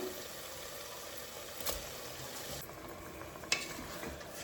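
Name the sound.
stirring rice in a cooking pot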